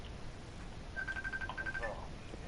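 A phone rings with a quick run of short, evenly spaced electronic beeps, then a brief second burst, faint against a low background hum.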